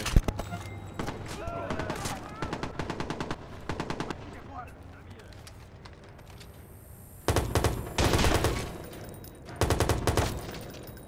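Gunfire in the Watch Dogs video game rattles in several rapid machine-gun bursts, fairly loud, with quieter gaps between, as a player talks over it.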